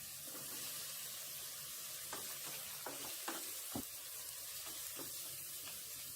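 Lamb innards frying in a pot for Magjericë soup, a soft continuous sizzle with occasional stirring clinks and scrapes, quiet and close.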